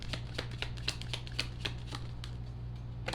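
Tarot cards being shuffled by hand, a run of crisp riffling bursts repeating every half second or so over a steady low hum, close and moderately loud with no talking.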